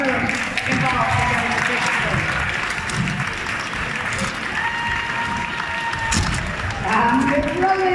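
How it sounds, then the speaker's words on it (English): Steady, loud applause from a crowd at a house raffle draw, sustained clapping filling the hall for several seconds with some voices underneath. "So a big round of applause for everyone involved."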